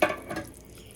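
Curry paste and canned coconut cream are mixed in a pot for chicken curry noodles, giving a short burst of wet stirring and spoon scrapes that fades to a soft, low simmering hiss. No voices.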